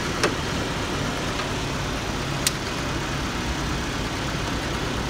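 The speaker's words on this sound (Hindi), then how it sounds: "अभी जो है इंजन चेक हो रहा है गाड़ी का" A car engine running steadily while being checked at a showroom, a constant low hum at idle with a couple of faint clicks, no talking.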